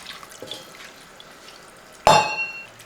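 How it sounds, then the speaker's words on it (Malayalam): Water is poured into a pan of colocasia stem curry, a short, sudden splash after near quiet that rings briefly against the metal. "ആവശ്യത്തിനുള്ള വെള്ളം ഇതേപോലെ ഒഴിച്ചു കൊടുക്കുക."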